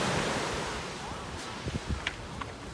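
Wind and surf on a beach in Naples, Florida, with a strong, continuous roar of gusts buffeting the microphone over breaking waves and a few faint, brief knocks near the end.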